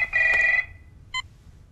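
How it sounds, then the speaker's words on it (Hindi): An electronic telephone ring sounds once in a sustained tone, followed by a short second chirp of the ringer. "फोन बज रहा है"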